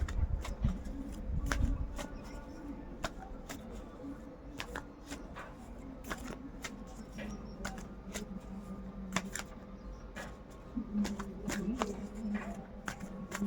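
A deck of tarot cards is shuffled and drawn by hand at close range, with repeated sharp flicks and snaps spread irregularly across a quiet room.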